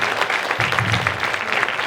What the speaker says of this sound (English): Round of applause for Mr. Yost.